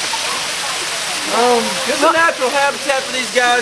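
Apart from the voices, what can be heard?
zoo waterfall trickling over rock formations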